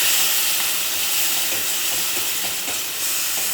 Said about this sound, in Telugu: మనం టొమాటో ప్యూరీ యాడ్ చేసుకుని మొత్తం బాగా మిక్స్ చేసి